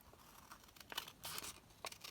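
Paper or card being cut for envelope pockets, with faint, close crisp snips and crinkles in short uneven bursts, quiet overall.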